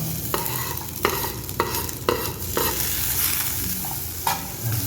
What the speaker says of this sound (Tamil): இதோட வந்து சிக்கனை போட்டுறேன்.